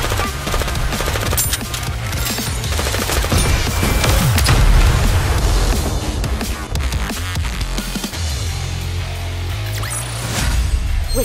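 Gunfire in the Goddess of Victory: Nikke video game: loud, dense automatic bursts and rapid shots that pound almost without pause, layered with crashes and booms.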